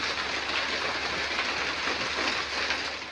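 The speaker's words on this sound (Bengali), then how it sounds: "একভাবে বৃষ্টি হয়েই যাচ্ছে সকাল দিয়ে বৃষ্টি থামার কোনো নেই বৃষ্টি হয়েই যাচ্ছে" Steady rain falls in an even, dense hiss that holds unchanged throughout, with no voices over it.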